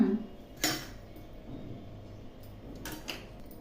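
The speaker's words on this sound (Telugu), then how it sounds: "స్టవ్ పైన బాండి పెట్టుకొని కొద్దిగా నూనె వేసుకుందాము" A metal kadai set down on a home kitchen stove while cooking mint rice gives a sharp clank at the start, another metallic knock shortly after and a faint clatter near the end, all close and fairly quiet.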